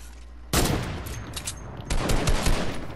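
Gunfire in Fortnite erupts after a quiet start, rapid loud bursts of shots continuing with a second heavier volley near the end.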